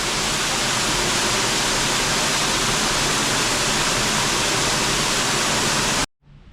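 Loud, unbroken rushing roar of the waterfall at Newstead Abbey, heard close from behind the falls, cutting off abruptly near the end to a much quieter background.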